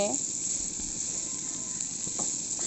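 Bitter gourd (karela) frying in a pan gives a steady, close sizzle with a few faint crackles, constant and moderately loud for a few seconds.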